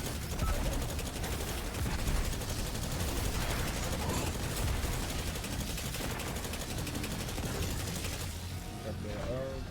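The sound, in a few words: gunfire from a video game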